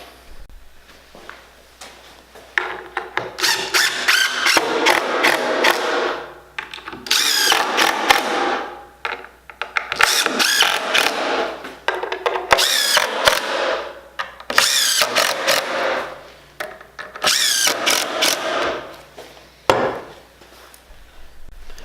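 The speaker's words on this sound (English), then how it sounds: "Now I'm just going to use some 1 5/8" construction screws. Throw a few in there," A power drill drives 1 5/8-inch construction screws into a wooden router sled, several loud whirring bursts of a few seconds each with short pauses between them, close up and with no talking.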